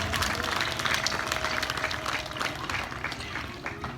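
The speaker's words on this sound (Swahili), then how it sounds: "Hebu tumpigie mwanaume huyu Yesu makofi kabisa." Church congregation applauding together during a lively Swahili gospel service, dense steady clapping filling the room for the full stretch, loud and continuous with a faint tonal hum underneath.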